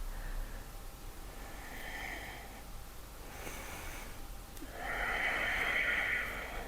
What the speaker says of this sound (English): So we're making a hissing sound as we breathe.